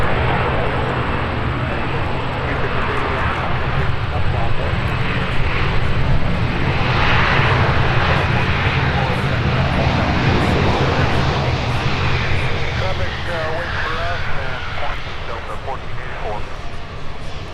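Airliner jet engines spooling up on departure takeoff at Minneapolis–St. Paul airport, a loud sustained roar with a rising whine, while someone talks continuously over it.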